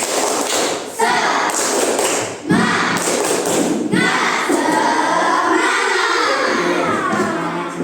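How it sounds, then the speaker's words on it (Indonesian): A primary school class of fifth graders claps a rhythmic spirit clap together, with loud unison thumps and claps repeating in a steady pattern over classroom noise and children's voices. "Tepuk semangat."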